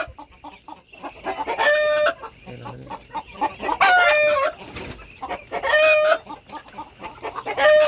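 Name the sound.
native chickens clucking and rooster crowing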